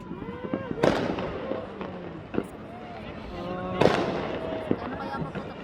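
Burj Khalifa New Year fireworks burst in loud sharp bangs, two big blasts with smaller crackles between, under excited voices and whistling tones in a large outdoor crowd.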